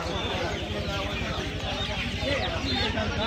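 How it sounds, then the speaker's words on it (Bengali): Black desi chickens cluck at a busy poultry market, the clucks blending into a loud, continuous crowd din with people talking over them. "এটা কালোর মধ্যে দেশি মুরগি আছে"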